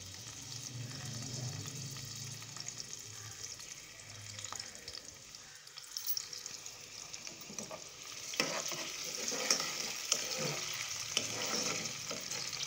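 Chopped onions frying in oil for a chana dal and lauki dalcha, with a steady sizzle that grows louder midway as stirring scrapes and clacks come in, and a faint watery hiss underneath.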